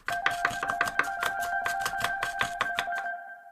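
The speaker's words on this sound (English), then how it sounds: "Everybody turn your hands sideways and start chopping." A banana is chopped with quick, sharp strikes, about fifteen in a brisk irregular rhythm, close and crisp over two steady sustained tones, then fading to quiet.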